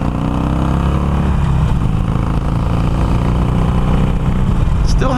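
A Harley-Davidson Iron 883 motorcycle's modified exhaust, with one-inch holes, runs loud and steady with a deep, throbbing low rumble throughout; a brief clatter near the end.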